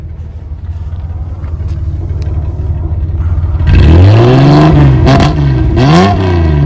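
Exhaust from a Nissan Skyline Kenmeri with a carbureted L-type engine, heard close to the muffler: a steady rumbling idle, then a loud rise into a rev and several quick blips.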